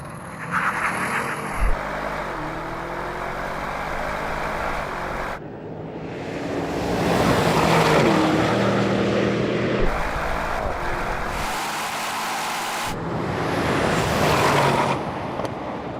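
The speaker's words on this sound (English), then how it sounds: "I've already drag raced the M5 against the RS6 and an AMG GT, and this happened." A BMW M5, an Audi RS6 and a Mercedes AMG GT drag race, with loud sustained engine roars rising and falling across several runs, broken by brief drops between passes.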